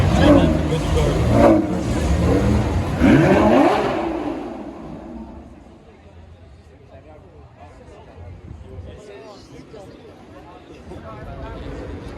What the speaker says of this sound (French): ça c'est une 612 Ferrari 612 Caglietti